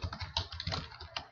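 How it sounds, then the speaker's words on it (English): Rapid, close keystrokes on a computer keyboard as a web address is typed in a browser, an uneven burst of clicks with a few harder taps, no talking. "I go to my browser and type"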